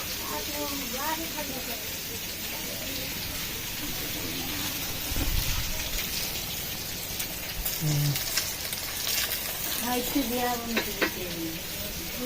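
Rain falls steadily as a continuous broad hiss, and voices talk over it throughout.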